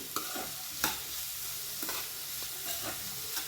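Vegetables sizzle steadily while a spatula scrapes and stirs them in a pan for spicy egg fried rice, with sharp stirring clacks at intervals and no talking.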